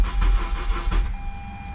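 A Mazda RX-8 that is prone to flooding is cranked in a start attempt, giving a brief, close, uneven rumble that pulses for about a second and then settles, with a thin steady whine behind it.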